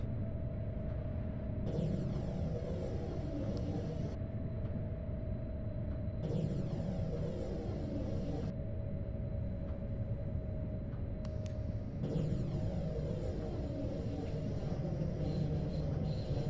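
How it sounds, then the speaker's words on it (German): A simulated RABe 523 electric train in Train Sim World 3 creeps onto a siding, its low motor hum steady under a sustained tone, with faint rail squeals and clicks recurring throughout and no talking. "Und dann stellen wir unser Zug auf das, das Nebengleis ab."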